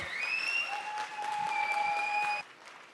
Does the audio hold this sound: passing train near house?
no